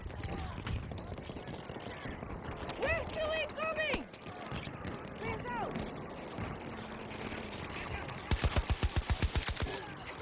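Battlefield multiplayer combat with scattered gunfire, including pistol shots, against a busy battle backdrop and a rapid burst of shots near the end, with a player talking and other game sounds mixed in.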